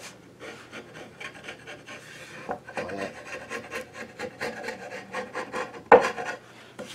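A 3/4 inch chisel scrapes hardened, foamed Gorilla Glue off wood in a run of short, rapid rasping strokes, one sharp louder scrape near the end, with no talking.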